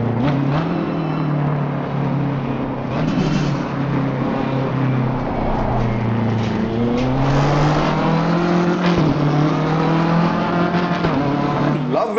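A BMW M4 GT3 race car in Assetto Corsa Competizione roars loudly under throttle, its engine pitch climbing and dipping through gear changes in a continuous, close drone.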